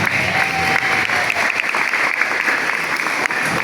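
Children at a primary school Ramadan gathering clap together in steady, dense applause that holds at full loudness from start to finish, nearby and with no talk over it.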